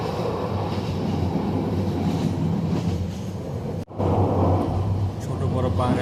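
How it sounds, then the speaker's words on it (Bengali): A passenger train from Dhaka to Cox's Bazar rolls past small and large hills, its steady loud rumble and rattle filling the space, with a brief dropout before the rolling noise resumes. "ছোট বড় পাহাড়ের পাশ দিয়ে আমাদের ট্রেনটি কক্সবাজারের উদ্দেশ্যে এগিয়ে যাচ্ছে"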